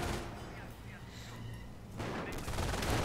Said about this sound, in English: The machine gun continuing to fire like mad.